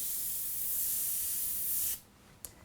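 An airbrush sprays paint in a steady, close hiss for about two seconds, then cuts off, followed by a brief faint puff.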